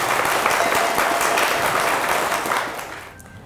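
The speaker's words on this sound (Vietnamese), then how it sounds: "hãy dâng cao một tràng vỗ tay thật lớn" Audience applause at a Buddhist Dharma talk, a dense, steady wash of many hands clapping at full strength before fading out in the final half-second.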